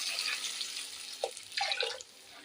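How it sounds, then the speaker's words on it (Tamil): Dissolved tamarind and chili powder mixture is poured into a fish curry of cooked tomatoes, a faint, close liquid splash and trickle in two short bursts. "நம்ம புளி மிளகாத்தூள் எல்லாத்தையும் கரைச்சி வச்சோம் அதை எடுத்து ஊற்றிக்கலாம்"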